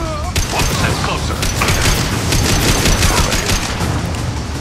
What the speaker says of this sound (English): Love the Matlock rifle.